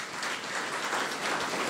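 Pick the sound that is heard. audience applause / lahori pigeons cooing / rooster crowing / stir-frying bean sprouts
audience applause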